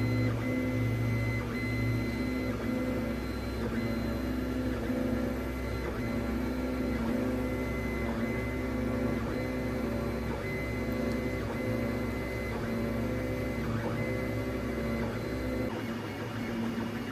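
A Makerbot Method 3D printer prints ABS, giving off a continuous layered hum of fans and stepper motors with faint rhythmic whirring movements, steady and close throughout.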